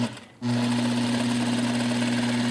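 A Juki DDL lockstitch industrial sewing machine sewing with nylon thread and untouched tension settings starts up after a brief quiet moment, then runs at a loud, steady, close whir with a constant hum throughout.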